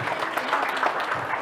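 Audience applause following a university lecture, steady close clapping from a room of listeners, continuous and fairly loud throughout.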